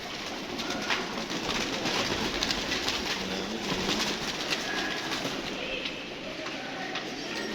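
Pigeons coo softly at a breeder's loft in a steady, noisy outdoor setting, their low calls repeating under constant background hiss.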